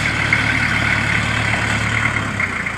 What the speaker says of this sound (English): Let's watch this tractor before he runs me over.